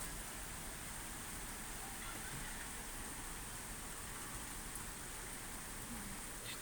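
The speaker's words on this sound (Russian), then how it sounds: "Такой дождик пошел, уже сильный." Heavy rain falls steadily on a roof in Moscow's Biryulyovo district, a dense, continuous wash of drops with no breaks, fairly distant and even in level throughout.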